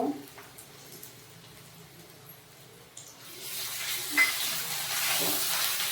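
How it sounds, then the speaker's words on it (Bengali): Grated ginger goes into oil already frying garlic. Soft stirring scrapes at first swell into a loud, steady, close sizzle partway through, with a clunk of the spoon near the end. "আদাটা দিয়েও একটু ভেজে নেব"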